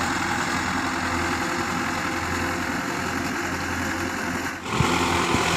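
A Belarus tractor pulling a FARMKING disc harrow runs steadily in a field, a continuous mid-to-low engine drone with a brief dip near the end, moderately loud and without voices.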